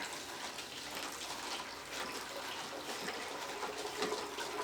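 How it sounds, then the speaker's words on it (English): An MSR Guardian water filter pumps water into a Nalgene bottle, a continuous hiss and splash of running water at a steady pace, close and fairly loud with no talk. "I'm going to pump at a reasonable pace and see how fast we can fill it."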